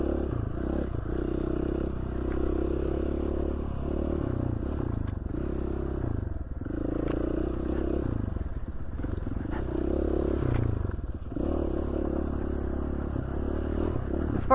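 A trail motorcycle rumbles steadily along a forest trail in Idaho, its engine droning loud and close with repeated swells of throttle and occasional clatter and scrapes over roots and rough ground.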